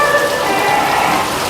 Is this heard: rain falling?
yes